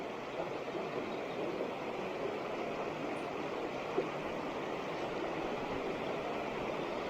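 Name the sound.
river water flowing over a waterfall on the River Tees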